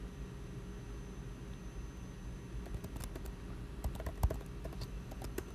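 Light, scattered keystrokes on a computer keyboard, quiet and sporadic, tapping over a steady background hum in an indoor setting.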